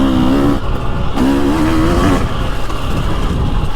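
A 2023 TX300 Heritage Edition two-stroke dirt bike rides through autumn woods, its engine loud and close, rising and falling in pitch over two revving surges and then holding a steady rough drone.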